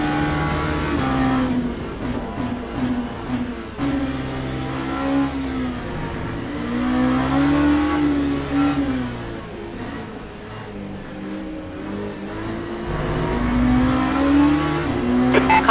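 Race car at Silverstone during a multiclass race, engine revving and climbing through the gears with repeated rising whines, lifts and downshifts, loud and close throughout.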